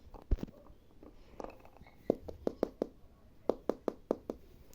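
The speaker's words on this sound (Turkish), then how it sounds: "Ah kapı çalıyor." Rapid knocking on a door comes as two short bursts of evenly spaced knuckle raps, close and crisp, after a few softer scattered taps.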